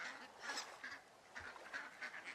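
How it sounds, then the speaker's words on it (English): Ducks quack in the game Firewatch, a few honking calls sounding faint and distant in a quiet outdoor scene. "So, ducks? Is that what I'm hearing? Noisy-ass ducks?"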